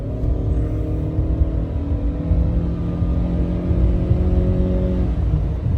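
A Ford Maverick hybrid pickup accelerating, heard from inside as a steady low engine drone with a rising whir that climbs gradually and then eases off near the end.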